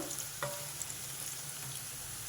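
Onions frying in oil for a capsicum masala curry give a faint, steady low sizzle with one small clink near the start.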